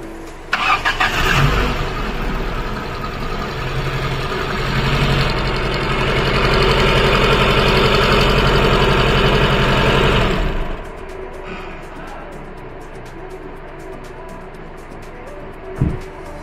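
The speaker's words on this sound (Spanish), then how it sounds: "Vamos a arrancarle, primer intento" A Ford Mondeo engine after a head gasket replacement cranks and starts, then runs at a steady, loud idle for about ten seconds before dropping to a quieter background hum.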